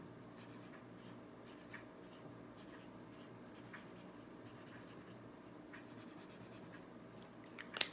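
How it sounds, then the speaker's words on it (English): Marker scratching across paper while a flower picture is drawn for a pre-K lesson, a steady soft scribbling texture with quiet strokes, close and faint, no talk. "And I'm going to draw the water."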